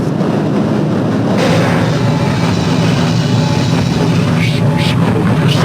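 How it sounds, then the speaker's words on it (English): A train in the video game Half-Life: Opposing Force rolls along with a loud, continuous low rumble and broadband rush, a few faint clanks and hisses rising near the end. "This train is inbound."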